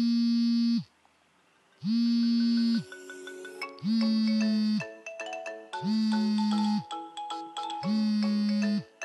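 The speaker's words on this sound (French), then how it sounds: "Alors, c'est parti pour la première sonnerie." An iPhone ringtone plays a repeating electronic melody, loud and clear, with bright tonal notes in short phrases separated by brief pauses.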